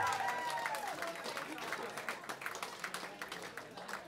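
Party guests clap for a drummer during band introductions at an 18th birthday party, a dense patter of applause that thins into scattered claps. A voice speaks at the start, and the clapping sounds moderately distant.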